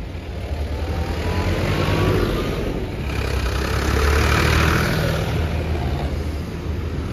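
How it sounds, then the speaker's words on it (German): Tractors carrying signs rumble off as they depart a Swiss farmers' vigil in Eschenbach, a continuous low engine drone that swells and recedes, heard from a moderate distance with no talk. "vom Aufbruch hier, vom Abreisen der Traktoren mit ihren Schildern"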